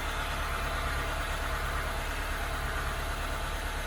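A car engine idles at roughly 1100 RPM during a repair check, a steady low rumble with an even, continuous hum and no talk over it.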